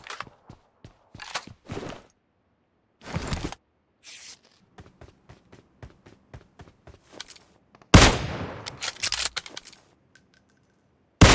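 Gunfire in the PUBG Mobile video game: sharp single shots and short rapid bursts, some distant and some close, with scattered clicks and a loud blast near the end, and no talk.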